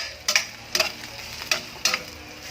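Garlic sautéing in pork fat in a pan, with four sharp bursts of sizzle and stirring spaced about half a second apart, close and fairly loud, and no talking.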